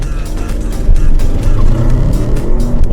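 A 2023 Audi RS7 in maximum-attack mode launches hard, its engine roaring loud and steady up close with a deep, continuous rumbling drone throughout.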